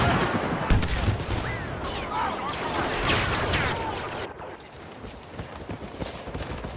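Blaster fire rattles in dense, overlapping bursts during a Star Wars Battlefront walker assault on Endor, layered over loud battle din with rumbling explosions and continuous action noise throughout.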